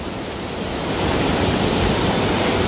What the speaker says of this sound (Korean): 여기 폭포 한번 보세요.